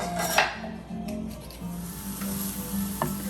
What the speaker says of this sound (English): I'm going to put my minced garlic into the pot